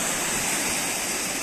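Waves breaking during a north-east storm just outside the shelter of a fishing harbour and anchorage with moored boats, heard as a steady, loud broadband wash of churning water and surf with no pauses.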